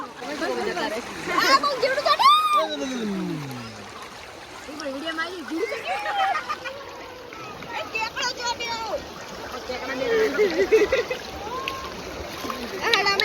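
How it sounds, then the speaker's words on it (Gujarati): Water splashes repeatedly as people play in the Banas River at Amirgadh, Banaskantha, with excited voices and children's shouts over the splashing. "અમે બનાસ નદીમાં નાવા આવી ગયા છીએ"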